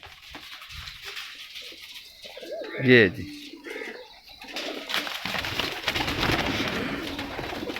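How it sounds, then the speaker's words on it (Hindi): A pigeon cooing once, loud and close, after it is released outdoors, followed by a sustained rush of fluttering wingbeats, with someone speaking briefly at the start. "ये है जी वो कबूतर"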